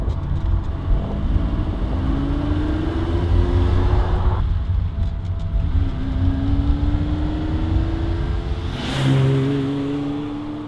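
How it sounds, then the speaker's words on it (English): A 1973 Ferrari 365 GTB/4 Daytona V12 accelerates through several gears, each rising engine pitch climbing then dropping at a shift, with a loud, close rumble throughout. "I drive a 1973 Ferrari 365 GTB 4 Daytona"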